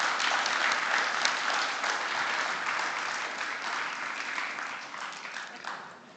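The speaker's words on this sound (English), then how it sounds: "Please, a round of applause." A conference crowd at an assembly forum gives a round of applause: steady, full clapping that holds evenly and tapers slightly at the end.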